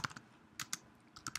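Someone types quickly on a computer keyboard, producing a soft, close run of clicks in small clusters while entering a command to run Smokeview on Windows.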